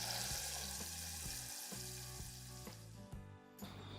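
Chopped garlic and tomato paste fry in a pan, giving a steady, close sizzle with a few stirring scrapes over a low tonal background hum.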